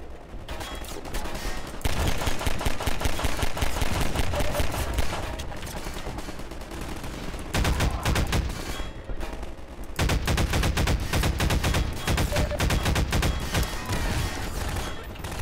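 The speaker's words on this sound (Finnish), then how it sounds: "Tuolla on tykkipesä." A machine gun emplacement fires in Half-Life 2, long loud bursts of rapid automatic gunfire with brief pauses between volleys, close and dominant throughout.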